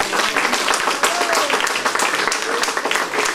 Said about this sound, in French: On les applaudit encore très fort s'il vous plaît.